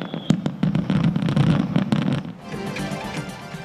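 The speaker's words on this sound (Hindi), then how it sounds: "आतिशबाजी का ज़बरदस्त मुजाहरा, आसमान रंगो नूर में नहा गया।" Fireworks over Japan marking the tsunami anniversary: a dense run of sharp crackling bursts and pops for about two seconds, then a softer fizzing rumble as the volley fades.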